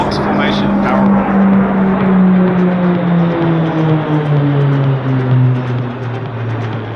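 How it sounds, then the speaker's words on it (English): RAAF Roulettes PC-9A propeller aircraft pass overhead in box formation at an airshow, a loud steady drone whose pitch slowly falls as the planes go by, with a voice talking over it. "Roulettes 1 through 4. Coming overhead for the box formation barrel roll."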